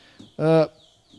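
Small bird singing in the background during a talk, heard as one short, loud, harmonic call that stands out against quiet room tone with faint murmurs around it.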